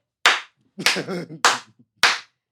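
Sharp, close hand claps used to sync audio for a recording session. Four distinct claps ring out, with someone talking briefly between the second and third.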